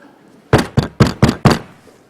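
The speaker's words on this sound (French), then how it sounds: "Soudain, on frappa à la porte." Five sharp, evenly spaced knocks on a door, close and loud, with a brief silence before and after.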